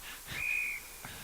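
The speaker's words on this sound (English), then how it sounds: "And we got another whistle" Referee's whistle blown once at an Australian rules football match in a USAFL regional tournament, a clear sustained shrill tone of about half a second over faint crowd and field noise.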